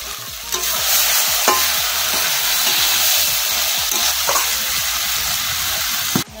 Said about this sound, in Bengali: খাসি মাংসটাকে সুন্দর করে মেখে রাখবো